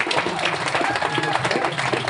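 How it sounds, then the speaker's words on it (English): Audience at a challenge cup event at Capital Factory applauding the winners, a dense burst of crowd clapping mixed with voices and cheering, loud and close throughout. "let's give another good round of applause for all of them"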